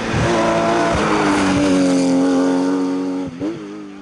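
A rally car at the Villajoyosa rally passing at speed, a loud high-revving engine roaring close by with falling pitch as it shifts and pulls away, then a brief rev at the end.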